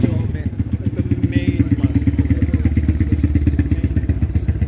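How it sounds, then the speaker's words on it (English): A loud motorcycle engine throbs close by on a street beside a mosque in Iran, its rapid, even pulses running throughout with a voice mixed in. "this guy's motorcycle is so loud"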